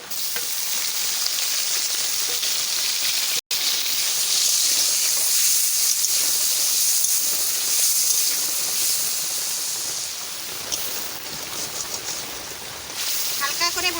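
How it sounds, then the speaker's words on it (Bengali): Paneer frying in hot oil in a pan, a loud, dense, continuous sizzle and hiss close up that eases slightly toward the end. "তেল গরম হয়ে গেছে আমি এবারটা পানিরটা একটু ভাজা করে নেবো"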